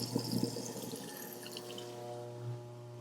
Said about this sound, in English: All right, run in the water.